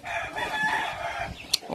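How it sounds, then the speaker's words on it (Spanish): Roosters being fought outdoors, one drawn-out crow rising and holding for over a second, fairly close, with scratchy clucking texture beneath and a brief sharp sound near the end. "Ahí andan los muchachos peleando gallos, Andrés y Emilio."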